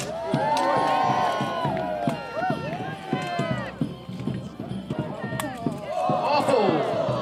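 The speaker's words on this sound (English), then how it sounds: "Cheer for our fighters" A crowd cheers and shouts for armoured fighters at a medieval faire in St Ives, lively and continuous, with an announcer's voice and hoof clip-clop mixed in the noise.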